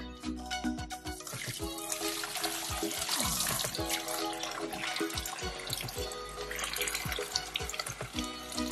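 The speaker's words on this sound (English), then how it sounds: "Add some water, then I'm just gonna pour it in the bucket." Tap water runs steadily into a bucket during a house clean, a close, continuous splashing rush that lasts throughout with no talk over it.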